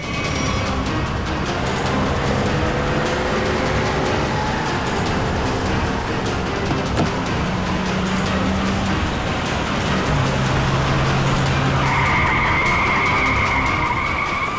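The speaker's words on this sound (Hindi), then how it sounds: "गाड़ी भगा।" Car speeding away in a chase with tires skidding and squealing, the engine roaring loud and steady throughout, with a higher tire squeal rising near the end.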